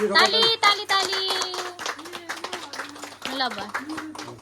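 Clapping at a family welcome-home gathering for a retired father, a few sharp hand claps in quick succession amid overlapping cheerful voices and chatter.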